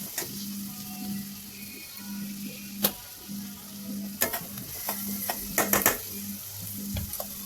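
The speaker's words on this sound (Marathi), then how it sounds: "ते बारीक कांदे चिरलेले याच्यामध्ये व्यवस्थित परतून घ्यायचे आहेत आपल्याला तेलामध्ये" Finely chopped onions sauté in hot oil for a tomato chutney, a soft steady sizzle broken by sharp scrapes and clacks of a spoon stirring the pan, no talking.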